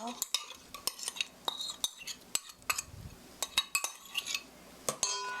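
Marinated bulgogi meat being tossed and mixed in a bowl, with repeated sharp clinks and scrapes of utensils against the dish in an uneven rhythm, close and fairly quiet.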